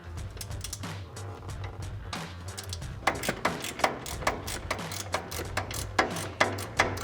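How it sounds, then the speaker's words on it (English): A socket wrench ratchet clicks while a suspension bolt comes off a Toyota Tacoma during a lift-kit install, first a low mechanical rumble, then a run of sharp, evenly spaced ratcheting clicks close up. "using your socket or wrench, go ahead and remove it"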